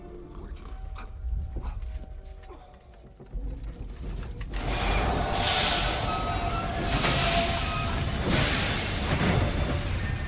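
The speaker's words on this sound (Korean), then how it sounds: "이미 제리코 마을에는 기차가 도착했는데" A train pulls into the small town of Jericho in a film, beginning with faint mechanical clicks and rattles before a broad, rushing rumble with hissing swells takes over and holds steady.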